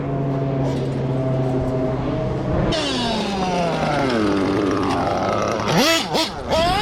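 A 1/8 scale nitro RC buggy engine runs at a track with a buzzy, high-pitched whine that rises and falls as the throttle is worked, heard fairly close up, with a sharper rev burst near the end.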